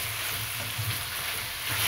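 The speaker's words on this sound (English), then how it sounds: "Now I just want the onion to cook a little bit, to be soft." Onion sizzling in a pan alongside liver and beef hump meat, a soft steady frying hiss close by with no talking.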